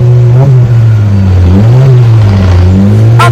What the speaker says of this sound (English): this is what a free flow muffler sound like in a Honda City